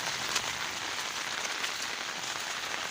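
Heavy rain pours down steadily, a dense, even hiss of drops striking surfaces close by with no pauses and no voices.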